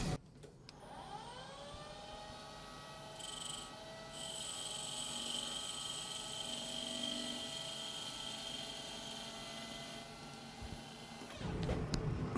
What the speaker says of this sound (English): taking a very light skim pass so it doesn't wobble all over the place